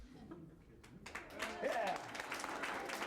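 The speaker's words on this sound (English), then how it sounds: "He's going to come in right now to uproarious applause as he steps in the door." Classroom of students bursting into applause and cheering as a guest musician steps through the door, starting quiet then rising to a loud burst of clapping mixed with shouting voices.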